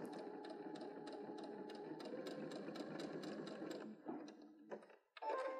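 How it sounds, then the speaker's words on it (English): Sewing machine stitching a quilt block corner to corner, a fast steady mechanical whir with regular ticking rhythm for about four seconds, then a brief stop and restart. "So I'm just gonna stitch from corner to corner and follow that drawn line."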